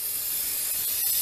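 Cleaner sprayed onto a car engine during a timing belt job on a 3.5 Charger, a steady close hiss that runs throughout the short stretch with no talk.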